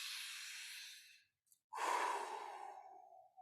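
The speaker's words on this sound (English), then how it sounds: "if we could indeed just take in a fresh breath like it's your first breath" A slow, deep inhale of breath, soft and airy, then a short pause before a long, fuller sigh-like exhale that tapers away, close and alone with no talk.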